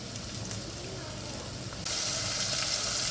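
Star anise, black pepper and cloves sizzle in hot oil for a village-style chicken biryani, a steady close frying hiss that jumps louder about halfway through.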